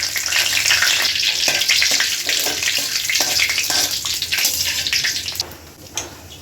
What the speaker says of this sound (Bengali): তেলের মধ্যে দিয়ে দেই একটু জিরা, আস্ত জিরা ফোড়ন আর তেজপাতা।